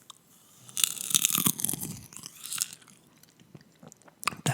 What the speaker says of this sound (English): now I'm going to eat the Skinny Pop popcorn